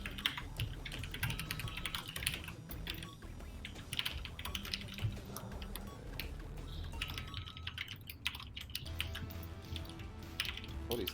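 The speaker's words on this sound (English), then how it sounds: "Oh, he's typing feverishly." Rapid, irregular clatter of keys on a computer keyboard, typed feverishly while writing emails, continuous and close for the whole stretch with a quiet room behind it.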